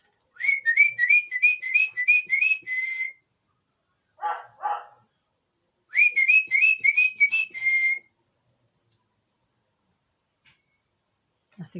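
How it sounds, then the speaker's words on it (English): Loud repeated whistling in two long runs of quick rising notes, with a dog barking briefly in between. "I'm going to whistle for the kids."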